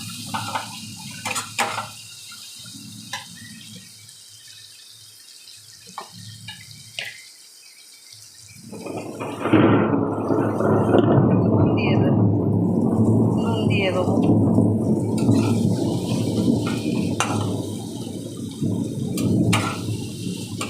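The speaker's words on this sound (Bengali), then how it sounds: "হালকা একটু জল দেবো।" Water poured into a pan of fish curry with turmeric and chilli powder: after some clinks and quiet handling, a loud continuous splashing pour rushes in midway and runs on steadily, with a voice speaking over parts.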